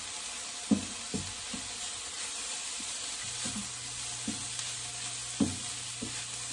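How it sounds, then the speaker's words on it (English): Burrito bowl ingredients with lime juice and salt are stirred in a pan, a few soft scrapes and knocks over a steady faint sizzle. "And then we're gonna mix it all up."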